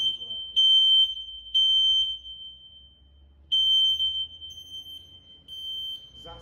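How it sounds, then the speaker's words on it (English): A smoke alarm sounds in loud, piercing high-pitched beeps, coming in short repeated bursts separated by brief pauses. "I'm going to set this smoke alarm off so we can hear it"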